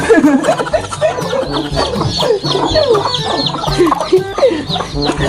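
A flock of chickens clucking loudly and continuously close by, overlapping calls forming a busy, agitated chorus with low rumbling noise underneath.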